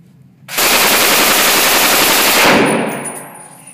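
A Browning Automatic Rifle (B.A.R.) fires one loud, sustained burst of rapid automatic fire lasting about two seconds, close to the listener, with a brief ringing decay afterward.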